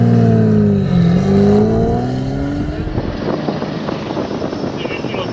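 A Jaguar E-Type V12 engine roars loudly and close, its pitch sweeping up and down as the car revs and passes, then settling into a rougher steady drone.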